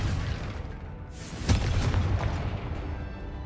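A Confringo blasting spell goes off in the Hogwarts Legacy video game, a single sharp burst landing amid steady game ambience and followed by a rumbling, fading tail.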